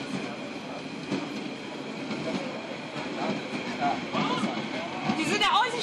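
The Molli narrow-gauge railway train runs past, a rumbling rolling noise with rail clatter that grows louder toward the end, where brief wheel squeals rise, with a voice speaking over it.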